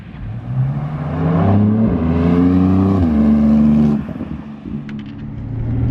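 A 1995 Nissan R33 GT-R's engine climbs steadily through the revs with a rising, throaty drone, eases off, then pulls again, loud and close from inside the car on a Japanese mountain skyline road.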